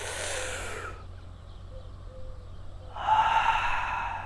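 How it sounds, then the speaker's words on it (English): A deep, forceful breath sounds close to the mic during Wim Hof breathing: a long, rushing airy inhale filling the belly and chest, a brief near-quiet pause, then a strong, breathy exhale. "inhale fully from the belly, from the chest and upper, like, then let it go"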